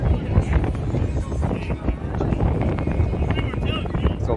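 Steady wind buffets the microphone with low rumbling gusts, loud and constant, with faint background activity underneath, on a very cold day at a varsity sports event.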